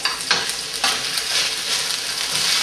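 Early spring lamb sizzles loudly in a hot pan, a dense continuous crackle with several sharp clatters as the pieces are flipped, no talking.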